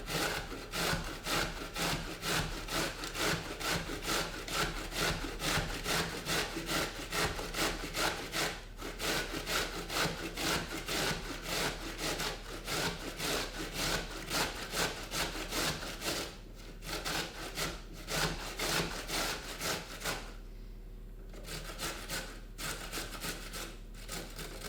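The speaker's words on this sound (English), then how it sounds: "So I'm just going to coarsely grate the courgette." A courgette is coarsely grated by hand, producing fast, regular rasping strokes that repeat rhythmically, close and fairly loud, with a brief pause near the end and no voices.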